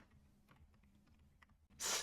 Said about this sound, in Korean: 이 키보드가 막 동시에 2번씩 눌리는 좀 증상이 있어가지고 키보드를 바꿔야 될 것 같아요